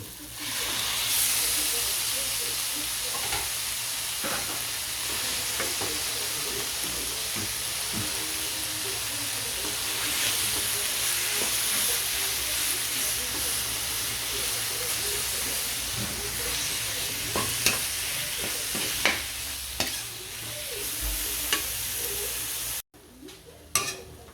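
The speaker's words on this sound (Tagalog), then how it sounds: "Mukhang okay na yung ginigisa. Lagyan na natin tong giniling." Ground pork or beef sautéing in a pan after aromatics, a steady close sizzle with stirring scrapes throughout, ending in a brief drop to near silence.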